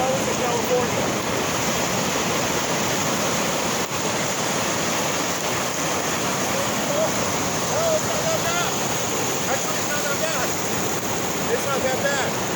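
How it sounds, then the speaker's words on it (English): Pacific Ocean waves on the coast at Astoria, a loud, continuous rushing wash of surf with steady broadband noise, wind mixed in and faint voices in the background. "This is the Pacific Ocean."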